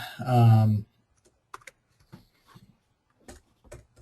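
Computer keyboard typing of search terms in an email list interface: a few sparse, soft key clicks scattered after a brief burst of speech at the start.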